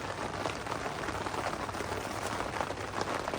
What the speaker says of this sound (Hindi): बारिश आप सुन सकते हो आवाज़